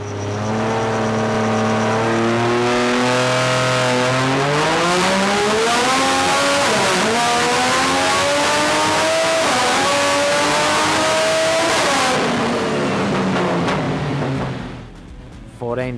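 A turbocharged Barra engine in an 80 Series Toyota Land Cruiser revs on a dyno. Its loud, sustained tone climbs steadily in pitch to a high peak, holds there, and then drops away.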